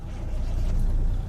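A Caterpillar 3406 diesel truck engine in the American Truck Simulator game, with a low steady rumble at moderate volume, heard alone over a short stretch.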